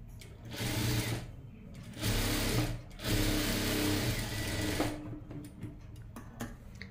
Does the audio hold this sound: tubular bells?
no